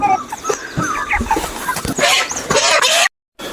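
Chickens cluck in a coop, brief scattered calls rising over rustling and shuffling noise, with a short moment of silence near the end.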